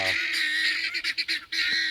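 Farm geese honking loudly and repeatedly nearby, a run of harsh nasal calls that keeps going with short gaps between them.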